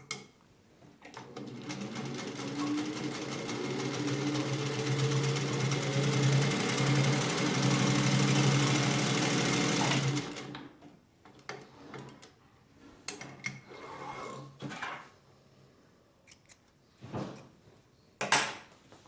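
A Singer 201-2 sewing machine in working condition, just taken out of its cabinet, runs with a steady, close mechanical whir for about nine seconds, then stops, followed by scattered knocks and clunks.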